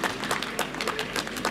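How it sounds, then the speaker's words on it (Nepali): Audience applause at the Darjeeling Bang Utsav 2021 stage show, a crowd of rapid overlapping claps held steady for the whole moment, fairly close, with no talking. "जोडदार ताली बजाउनुहोस्"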